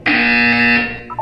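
A loud, steady electronic buzzer tone from the game Portal 2 sounds for about a second, then cuts off, followed by a brief faint blip.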